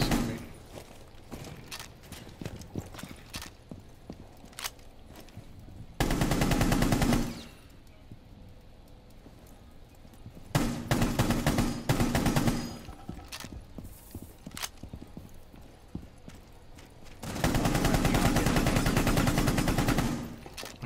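Bursts of automatic gunfire in the tactical shooter Rainbow Six, three loud sustained volleys separated by quieter stretches of scattered shots, footsteps and thuds.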